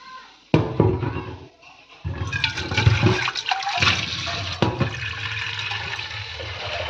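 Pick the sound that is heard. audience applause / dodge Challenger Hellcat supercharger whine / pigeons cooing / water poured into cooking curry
water poured into cooking curry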